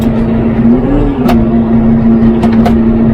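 A John Deere tractor (6120M or 5105M) pulling a plough across a field, its engine droning loud and steady at close range, with a constant low hum and a few brief sharper knocks on top.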